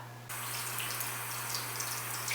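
Tap water runs steadily onto a washcloth at a sink, a sudden start followed by a continuous close, bright splashing flow.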